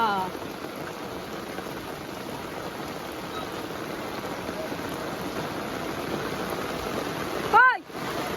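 Heavy rain pours down during a flood as a dense, continuous hiss of drops striking water and surfaces, with a short louder burst of sound near the end.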